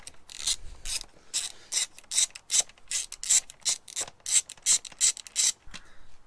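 Ratchet wrench clicking in quick repeated bursts while loosening the air filter bolts on a Yamaha Super Tenere XT1200Z motorcycle, close and crisp, with short pauses between strokes.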